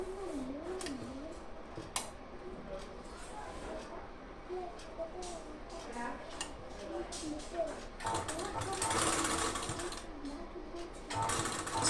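Domestic sewing machine running a steady stitch along a blouse lining near the neckline, with stretches of talk over the mechanical whirr and brief pauses between runs.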